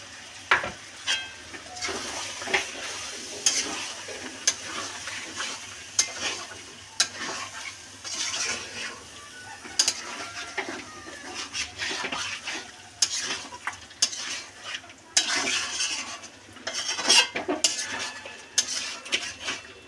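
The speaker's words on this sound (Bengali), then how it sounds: "দিয়ে ভালো করে কষিয়ে নেবো বন্ধুরা।" Chicken curry with added yogurt being fried and stirred in a pan: a steady sizzle broken by frequent sharp metallic scrapes and clinks of a spoon against the pan, loud and close.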